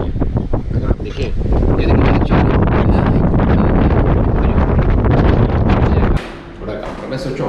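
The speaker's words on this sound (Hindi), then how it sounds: "बहुत जोर की हवा चल रही है।" Strong wind buffets a rooftop, roaring and gusting loudly and continuously for several seconds before briefly easing, with heavy wind noise on the microphone.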